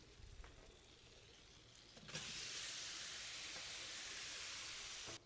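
Shrimp dropped into melted butter in a hot pan, a sudden burst of steady, hissing sizzle that continues evenly at a faint, close level after a quieter lead-in.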